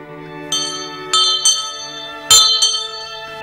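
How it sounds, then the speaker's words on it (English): A hand bell rung in several quick, uneven bursts, bright ringing tones with a sustained hum lingering between strikes, close and moderately loud with no talking. "Except the way she rings the bell."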